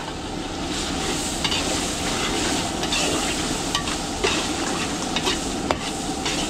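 Garlic, onion, vegetables, meat and sliced mushroom sizzle steadily in a pan during catering prep, with scraping stirring strokes and small clatters over a constant frying hiss, no talking.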